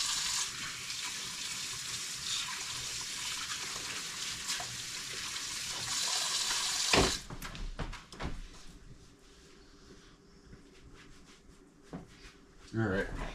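Tap water runs steadily into a sink as someone washes their hands, a continuous hiss that stops abruptly partway through, followed by quieter handling clatter and a few knocks.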